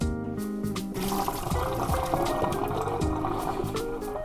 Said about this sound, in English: So first thing I'm gonna do is I'm gonna get these potatoes rinsed, and dried.